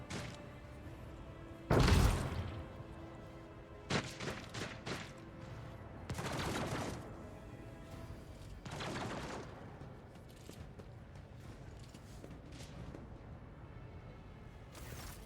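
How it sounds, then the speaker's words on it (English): Las gun fire in the video game Warhammer 40k: Rogue Trader: several sharp, loud energy-weapon bursts spaced unevenly, a heavy one near the start and more at intervals over a low ambient bed, with no talking. "I love the report of las guns."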